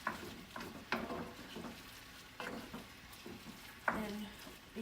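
Potato and turkey curry stirred in a pan, a few soft scrapes and clinks of a utensil with a gentle sizzle, close and quiet.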